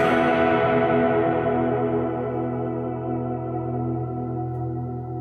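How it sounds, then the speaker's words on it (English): Electric guitar played through a Marshall Shredmaster boutique distortion pedal: one thick, saturated chord struck and left to ring, sustaining loudly and slowly fading with no talk. "Next pedal in the chain is the Marshall Shredmaster, which is a bit of a boutique pedal"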